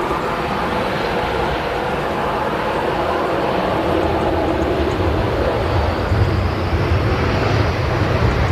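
A plane passing overhead at Manchester Airport during evening arrivals, a steady broad roar that builds slightly toward the end, with wind buffeting on the microphone.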